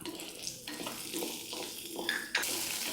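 Onions tipped into a pan already holding ginger, garlic and tamarind for spicy mint chutney, giving a steady sizzle with stirring and scraping that brightens near the end.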